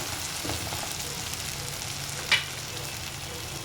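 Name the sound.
ingredients roasting in a pan for mutton curry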